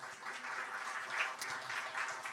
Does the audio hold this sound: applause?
yes